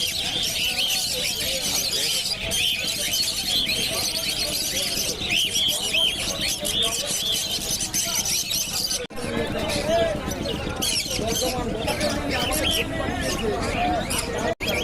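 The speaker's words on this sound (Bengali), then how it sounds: "এখানে অনেক সুন্দর সুন্দর পাখি আছে" Small caged birds, lovebirds among them, chirp and tweet in quick, bright repeated calls at the busy Krishnanagar market, heard close alongside people talking and general crowd noise.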